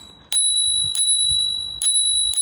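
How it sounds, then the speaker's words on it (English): A Ravemen Q3 bicycle bell rings four times in bright, sharp dings with short pauses between them. Each one rings out cleanly over a quiet background. "Okay, so I'm just going to demonstrate the bell here."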